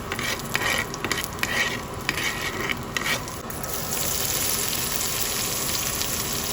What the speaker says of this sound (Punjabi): ਪਿਆਜ਼ ਨੂੰ ਜ਼ਿਆਦਾ ਨਹੀਂ ਭੁੰਨਾਂਗੇ ਥੋੜਾ ਜਿਹਾ ਭੁੰਨਾਂਗੇ